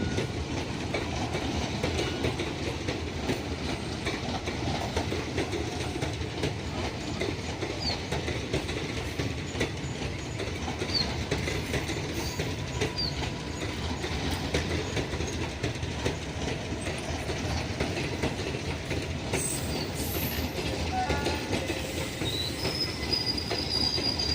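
A small Najibabad–Kotdwar passenger train with nearly empty sleeper coaches rolls along steadily, a continuous rumble of wheels on track with rhythmic clickety-clack and occasional squeals, heard from on board throughout.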